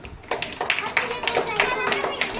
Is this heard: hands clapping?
yes